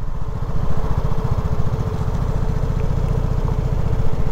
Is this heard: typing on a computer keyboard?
no